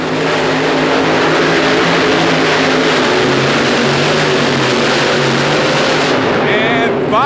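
A four-engine modified tractor, the Miller High Life combination, roars at full power in a pull at the New Orleans Superdome in 1992: a loud, continuous, dense engine drone that holds steady, then eases slightly near the end.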